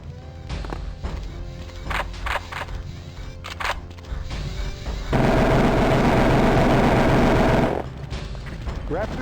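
Shotgun blasts in the video game Terminator Future Shock, several sharp shots in a quick irregular burst followed by a sustained loud roar of in-game noise, then quieter.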